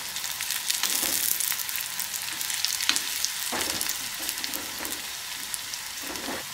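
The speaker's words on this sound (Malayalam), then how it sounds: "ഉള്ളി ഒന്ന് വഴന്ന് വരണം" Onions and curry leaves sauté in hot oil for a Kerala bitter gourd theeyal, giving a steady, close crackling sizzle with a few sharper spatula scrapes and stirs scattered through.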